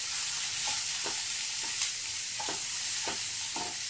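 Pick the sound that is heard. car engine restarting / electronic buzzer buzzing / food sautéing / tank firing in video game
food sautéing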